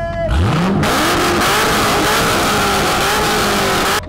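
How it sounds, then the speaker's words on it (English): A car engine at a cars and coffee meet revs sharply, rising in pitch and then holding a loud, sustained high-rpm roar for several seconds. A crowd murmurs faintly underneath. "Alright, rev that."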